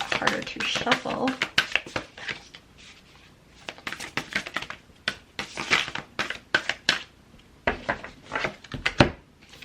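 A tarot card deck being shuffled by hand during a reading, giving bursts of crisp riffling and slapping in uneven clusters with short pauses between, close and fairly loud.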